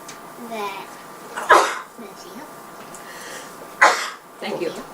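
Two sudden, sharp sneezes burst out a couple of seconds apart, with people talking quietly around them.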